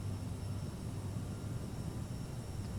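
Aircraft engine in Microsoft Flight Simulator 2020 on a flight from Zurich Airport, a steady droning engine roar with a constant low hum, continuous and even in level.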